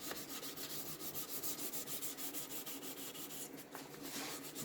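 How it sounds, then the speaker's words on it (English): A Gibson Les Paul guitar neck being dry-sanded with 400 grit sandpaper by hand, a steady, close scratchy rubbing in quick repeated strokes that carries on without pause. "so final sanding here. I'm on 400 grit dry."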